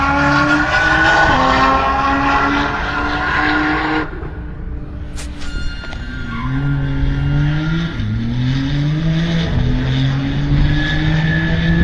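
A race car pulls away at Nashville Superspeedway, its engine revving loudly and climbing through several gear changes, with a brief drop between shifts and another engine droning nearby.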